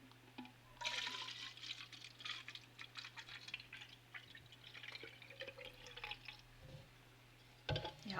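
Water is poured from a bottle into a cup, a quiet trickling and splashing stream that runs for several seconds with small drips. It ends in a brief louder splash, with no voices.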